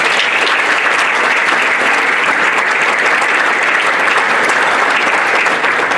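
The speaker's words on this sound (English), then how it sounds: "can we give a big round of applause to those recipients who will receive their awards today" Loud, sustained applause from a large crowd fills the hall at a Victorian school sports awards ceremony, greeting award recipients with dense, steady clapping throughout and no break.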